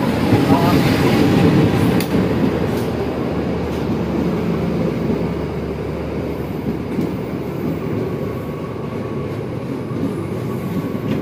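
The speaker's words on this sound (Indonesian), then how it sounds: "Ya, kereta masuk ya." Lodaya train rolling through Cimekar station, a loud continuous rumble of wheels and carriages with rhythmic clacks and metallic squeal, passing close by for the whole stretch.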